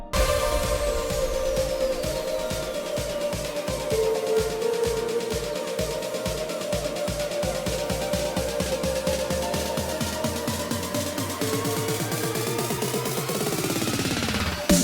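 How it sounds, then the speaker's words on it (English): Full progressive house build-up from FL Studio, with driving drums, filtered lead synths and sweeping effects rising steadily in intensity to a climax, played loud and continuous without any talking. "And overall, a build-up sounds something like this."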